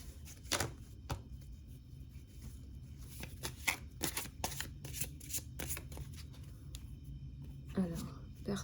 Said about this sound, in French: je les retourne les cartes